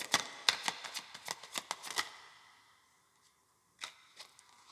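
Tarot cards are shuffled in a quick run of about a dozen crisp riffling snaps, close and clear, followed by silence and then a single softer card flick, with no talking.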